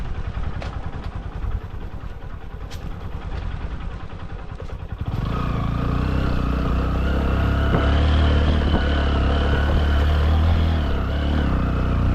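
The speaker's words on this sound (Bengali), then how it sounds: "বাইক দিয়ে মিরিং যে রিসোর্টে যাচ্ছি" A motorcycle rides a hilly road toward Mirinja Valley, its engine a steady close drone that swells louder and fuller about halfway through and holds on with some rattly clatter.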